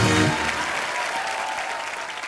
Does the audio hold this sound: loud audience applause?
yes